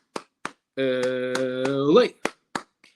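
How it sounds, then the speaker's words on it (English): UCLA Bruins eight-clap chant: eight sharp, evenly spaced hand claps close to the mic, with a single voice shouting the chant over the middle claps and then isolated claps finishing the count. "8 clap time, baby."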